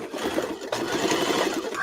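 A sewing machine runs steadily, stitching pieces of stretch fabric together, a close, even mechanical whir with a brief dip before the needle picks back up.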